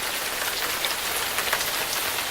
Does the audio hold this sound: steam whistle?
no